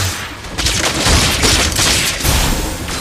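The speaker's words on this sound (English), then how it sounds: "Your team destroyed the turret." Turret destruction in the Mobile Legends video game comes as a loud, dense burst of explosive blasts and booms that rolls on for several seconds, close and up front with no talk over it.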